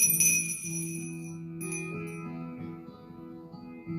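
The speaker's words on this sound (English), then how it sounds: "The bell rings tonight for Donald Frame." A single bell at a funeral home's remembrance service rings out with a bright struck onset, its tone sustaining and slowly fading before a second softer strike near the end, with no talking.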